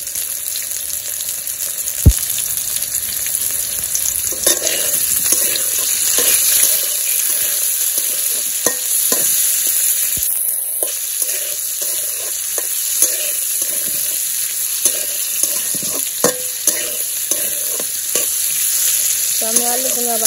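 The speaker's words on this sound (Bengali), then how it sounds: "আলুগুলা দিয়ে দেই। লবণ দিয়ে ভেজে নিব।" Potatoes frying in hot oil with salt in a village kitchen, a loud, continuous crackling sizzle with scattered scrapes and taps of a stirring utensil throughout.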